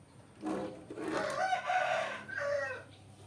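Chickens cluck and a rooster crows nearby in a Thai village yard, the calls running together for a few seconds at moderate volume.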